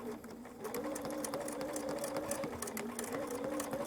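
Sewing machine fitted with a self-threading needle stitching fabric, a continuous fast mechanical whir with rapid rhythmic needle clatter, close and steady throughout.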